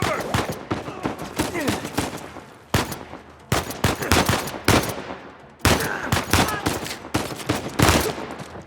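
Rapid bursts of sniper and automatic gunfire in the Uncharted 4 video game, loud sharp cracks in dense volleys with brief pauses, echoing over a battle scene.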